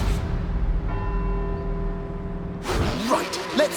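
Church bells ring from bell towers in Edinburgh in the Forza Horizon 4 video game, with a clear, sustained peal and a long ringing hum. Fresh bright strikes and a voice follow near the end.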